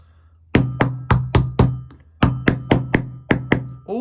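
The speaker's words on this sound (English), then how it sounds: "I'm gonna just tap it home" Hammer tapping a 7mm socket onto the captive bolt of a weed eater clutch bell: sharp metallic knocks, four in quick succession, a short pause, then a second run of about seven evenly spaced taps, close and loud.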